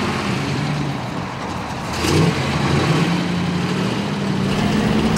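A 1967 Chevrolet Corvette once owned by astronaut Gus Grissom fires up and revs, its engine note rising in steady surges that hold loud and close over a low rumble.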